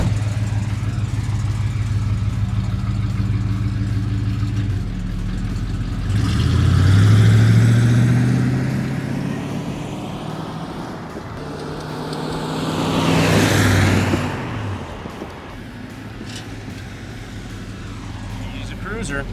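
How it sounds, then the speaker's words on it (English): A 1972 Chevrolet Monte Carlo with a big-block V8 makes two passes, its deep engine note rising as it approaches, peaking close by and fading away, with a quieter idle-like rumble between the passes. "we did that flyby right by that police officer"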